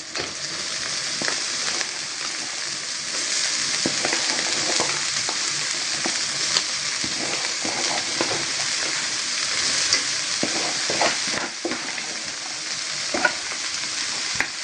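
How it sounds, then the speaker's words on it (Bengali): Radish greens with onion and shrimp sizzle and fry steadily in a pan, a continuous close crackle with occasional stirring scrapes and no talking. "পেঁয়াজ আর ইচ্ছা মাছ একটু হালকা ভাজা ভাজা হয়েছে তো এখানে আমি এখন শাকগুলো দিয়ে দিই"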